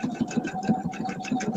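A sewing machine stitches a quilted table runner, its motor and needle chattering in a quick steady rhythm at close range for a short burst.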